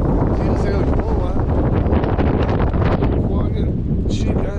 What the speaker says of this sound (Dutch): Want we hebben heel veel wind, zit je de vlag achter mij staan.